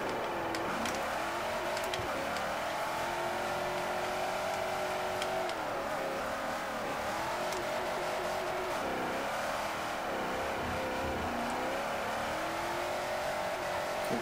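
2010 Camaro in Forza Motorsport 4 drifting, its engine held high and revving steadily with rising and falling pitch and faint tire squeal, loud and continuous without any talk.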